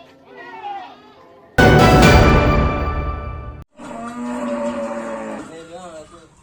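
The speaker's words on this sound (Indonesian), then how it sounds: "Seekor sapi jenis simental bernama Mochachido menjadi salah satu hewan kurban yang dipilih Presiden Prabowo pada Lebaran Idul Adha mendatang" A Simmental cow chosen as an Eid al-Adha sacrificial animal lets out a long, loud, close moo, framed by speech and a burst of noisy crowd sound.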